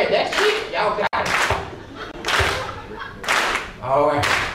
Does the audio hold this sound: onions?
no